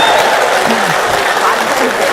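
Applause from the audience at a mushaira poetry gathering in Belgaum, a brief burst of dense clapping with voices calling out over it.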